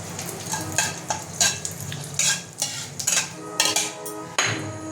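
Whole spices for a tempering, black cardamom, garam masala, star anise and a bay leaf, sizzle in hot oil for a Bengali kanika bhog, stirred with repeated sharp utensil scrapes and clinks against the pan, close and steady.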